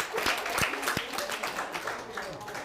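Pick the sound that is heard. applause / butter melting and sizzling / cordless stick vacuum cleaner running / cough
applause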